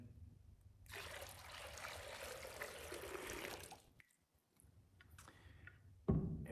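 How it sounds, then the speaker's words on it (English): Water is poured into a baptismal font during a church worship service, a continuous splashing trickle of about three seconds, then brief quieter dribbles in a hushed room. "picks up the waters, and pours it in."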